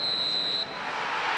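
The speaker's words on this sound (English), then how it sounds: "And the whistle goes for half-time." In a football video game, the referee blows a sustained shrill whistle for half-time, which cuts off partway through, leaving a broad crowd-like wash.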